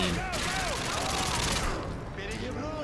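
Rapid sustained SMG fire in Call of Duty: Modern Warfare 2, a continuous automatic burst that briefly thins near the end before resuming, with in-game sounds layered over it.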